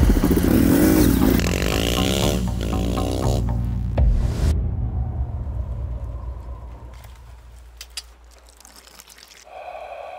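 A 230 dirt bike engine runs loudly and close for a few seconds, then cuts off. Fainter clatter and rustling follow.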